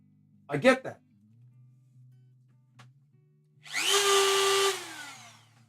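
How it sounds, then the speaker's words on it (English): A Dremel rotary tool whines up in a luthier's guitar workshop, a single high buzzing burst of about a second that then spins down, after a brief spoken remark. "Hopefully that wasn't too loud. Dremels aren't that loud."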